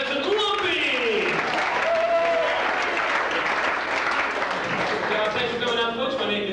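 Loud, sustained applause fills a comedy club, dense clapping mixed with a few cheers and whistles, with a voice speaking over it early on.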